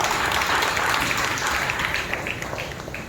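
A church congregation at Sunday worship claps loudly together, a dense, sustained wash of many hands that fills the room, easing slightly toward the end.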